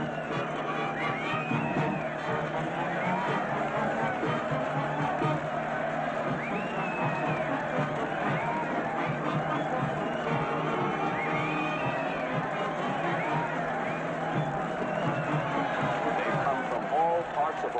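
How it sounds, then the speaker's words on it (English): A large crowd in Hawaii waving and cheering to welcome long-lost castaways home, a dense continuous roar of shouts and cheers with excited whoops rising throughout. "And look at that mob waving and cheering."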